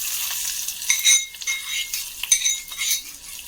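A spiced mixture is stirred into mango curry in a pan, giving light clinks and scrapes of a spoon against the metal at an irregular pace, close and fairly clear, over a faint sizzle.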